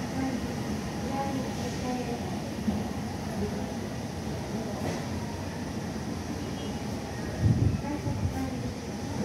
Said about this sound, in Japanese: ほら、あの奥が電車来てます。